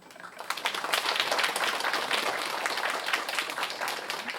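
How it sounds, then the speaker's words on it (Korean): Dense, sustained applause from an audience welcoming guests at a care workers' support center event in Gyeongsangnam-do, building quickly and holding steady at a moderate distance throughout. "따뜻한 환영의 박수를 부탁드리겠습니다"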